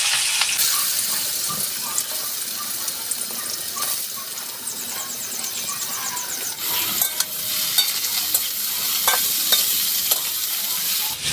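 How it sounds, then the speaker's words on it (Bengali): Taro pieces fry in a pan with whole red chillies in hot oil, a steady close sizzle filling the whole stretch, broken by occasional scrapes and clinks as they are stirred. "এবার আমি কচুটা একটু ভেজে নিচ্ছি"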